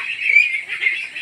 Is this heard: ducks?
yes